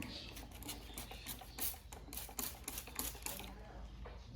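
A spray bottle sprays diluted glue onto N scale model pine tree branches, firing many quick squirts in a fast, uneven rhythm, each a short hissy spritz, close and soft.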